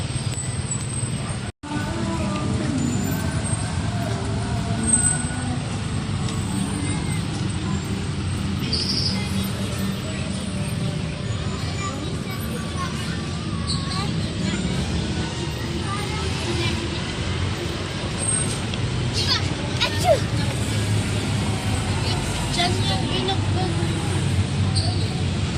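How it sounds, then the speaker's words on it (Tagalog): Steady road traffic hums past a City Hall overpass in Baguio City at school dismissal time, a continuous rumble of engines with occasional bird chirps and a person talking over it. "It's dismissal time for school, so it's a little traffic."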